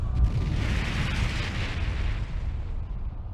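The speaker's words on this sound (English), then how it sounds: "Sounds like screaming. And cannon fire." Heavy cannon fire in the video game Ys X: Nordics, a sustained rumbling barrage of booms and blasts with dense low-end roar and crackling noise throughout, no voices.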